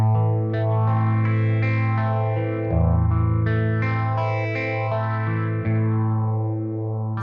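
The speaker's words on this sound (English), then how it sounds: "So all we have is a clean tone and the phaser." A clean electric guitar tone runs through a phaser pedal, with sustained chords sweeping in a slow, rhythmic whoosh as the notch filter moves up and down; loud and alone with no talking.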